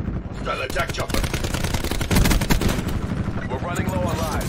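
Rapid bursts of automatic gunfire from an attack chopper in Call of Duty Black Ops 4, loud repeated cracks in clusters layered over other battle noise and voice.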